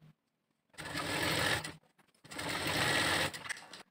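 A sewing machine runs two separate bursts of stitching along a folded blouse seam, sewn from the reverse side, each run lasting about a second, loud and close with a brief pause between.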